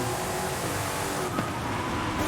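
Lamborghini race car in a rally racing game, a steady loud engine roar that sweeps past with a brief pitch shift near the end, with no talk over it.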